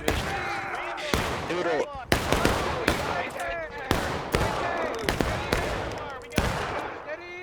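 Musket volleys and scattered gunshots in the War of Rights battle game, a series of sharp loud cracks every second or so with echoing tails, while a voice briefly speaks.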